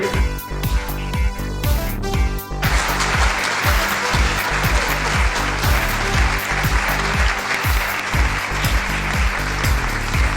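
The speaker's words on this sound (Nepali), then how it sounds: "कृपया सम्पूर्णले ताली बजाएर सहयोग गरिदिनु अनुरोध गर्दछौँ।" An audience at a Nepali inauguration ceremony applauds in a dense, continuous wash of clapping, heard over loud music with a thumping beat throughout.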